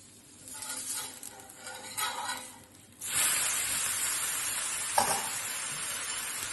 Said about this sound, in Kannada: ಇವಾಗ ತಿರ್ಸು ಹಾಕ್ತಾ ಇದ್ದೀನಿ ಸ್ವಲ್ಪ ಹಿಂಗೆ ಪ್ರೆಸ್ ಮಾಡಿದ್ರೆ